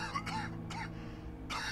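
A man coughs and clears his throat in a few rough, close bursts separated by short pauses, with no other voices.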